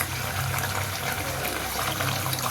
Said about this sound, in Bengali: এবার আমি জল দেবো, তলায় লেগে যাচ্ছে তো।